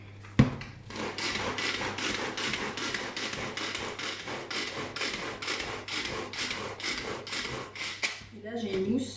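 Ham mousse for verrines is mixed and shaken, a steady rhythmic rubbing and rattling at a regular beat for several seconds after a sharp knock, ending with a brief voice.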